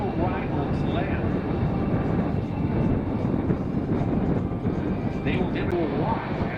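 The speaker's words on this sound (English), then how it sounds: "the C-17 is now making a tactical arrival to land" A C-17 military transport jet flies low on its approach to land at an airshow in Rochester, New York, its broad engine roar steady and loud throughout, with an announcer talking over it.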